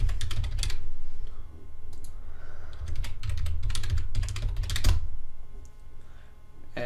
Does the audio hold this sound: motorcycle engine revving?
no